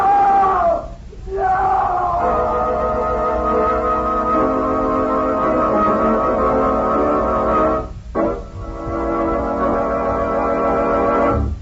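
A scream from a 1945 Nick Carter radio mystery, set on an island on a stormy night with a killer loose, rises loud over a dense sustained dramatic backdrop, dips briefly, then swells again with a second cry near the end.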